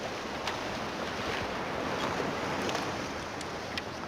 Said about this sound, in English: Just really windy. Walking into this wind.